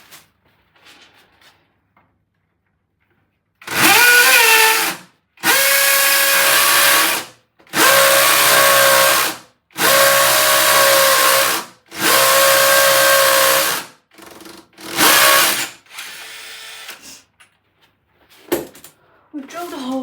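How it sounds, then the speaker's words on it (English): An electric drill whirs in five long, loud bursts separated by short pauses, followed by quieter clicks and handling noises, drilling a hole while fitting out an understairs cupboard as a pantry. "Drill."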